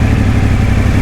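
Motorcycle engine idling on a training track, a steady, close, loud low rumble with a faint mechanical clatter running unchanged for a second.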